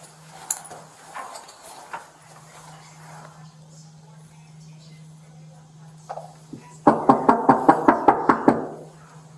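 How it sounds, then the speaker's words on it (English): A police officer raps on a door: a quick series of about eight sharp, loud knocks near the end, after a stretch of faint background sounds and a low steady hum. "The officer knocked on the door"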